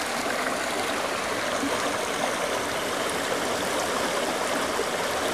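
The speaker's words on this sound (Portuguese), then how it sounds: "Olha o riozinho." A small, clear river flows steadily in the forest along an off-road motorcycle route, its close, continuous rushing and babbling unbroken, with no voices.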